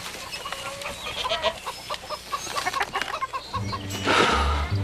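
Chickens clucking in a farmyard scene, a run of repeated clucks and short calls at moderate distance, followed by a louder low rumble and hiss near the end.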